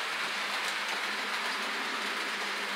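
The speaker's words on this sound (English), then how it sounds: "This train here that's passing by right now has" Steady broadband rumble of a 14-car freight train rolling past, constant and close, with a faint rhythmic clatter of wheels running through the whole stretch.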